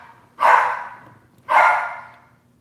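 A dog barks twice, close and loud, with about a second of quiet between the two sharp barks.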